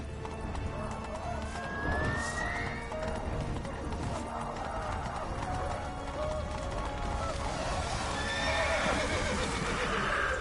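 A horse galloping and neighing in The Witcher 3 video game, with steady hoofbeats, a whinny and a continuous dense game soundscape; a voice talks over it.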